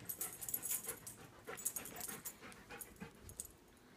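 A Siberian husky pants in quick, ragged breaths close by, playing with a squeaky pumpkin toy indoors, with a few small huffs mixed into the steady rhythm.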